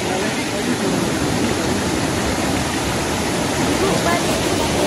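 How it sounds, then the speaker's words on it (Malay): Fast-flowing river water still running hard after rain stopped makes a loud, steady rushing roar that fills every moment without a break. "Walaupun hujan dah berhenti, air masih lagi deras."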